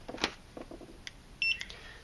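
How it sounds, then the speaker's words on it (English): A short electronic beep from a Tera mini portable barcode scanner reading a barcode sounds once, bright and clear, among faint clicks and handling noise in a quiet room. "So I scan a barcode. It beeps"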